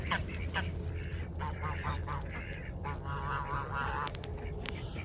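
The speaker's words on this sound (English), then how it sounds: "Oh, look at the geese." Geese honk in bursts alongside some duck calls on a farm during morning chores, close and fairly loud, over a steady low hum.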